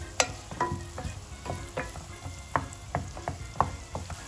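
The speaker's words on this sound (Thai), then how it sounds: "ผัดหอมใหญ่ให้หอมเลยค่ะ จนมันใสนะคะ" Onions stir-fried in a pan until translucent, a steady sizzle punctuated by regular scraping and tapping strokes of a spatula, close and fairly loud, with no talking.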